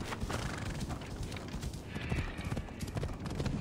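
Hooves of a horse gallop in the video game Assassin's Creed Odyssey, a fast, steady beat of close, thudding clip-clops that keeps going with no pause.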